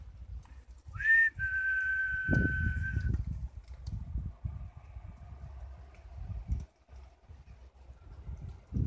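A single person whistles a short rising note, then holds a steady tone for about two seconds, followed by quiet clopping and low background noise.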